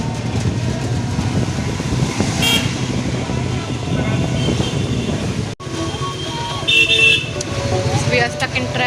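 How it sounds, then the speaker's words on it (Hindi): Busy road traffic in heavy rain in Delhi rumbles around, with car horns tooting now and then; people talk underneath the steady din. "We are stuck in traffic, which is very much expected in this kind of weather."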